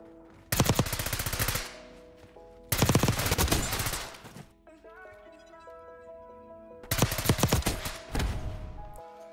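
Bursts of AS VAL rifle fire in Black Ops 6, three rapid full-auto strings separated by pauses, with game sounds and ringing tones in between.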